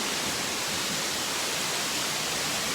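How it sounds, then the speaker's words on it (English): Waterfall at Silver Falls State Park, a loud, dense, unbroken roar of falling water filling the whole short stretch, no talk. "It's definitely an amazing waterfall and an amazing time to be coming here, right?"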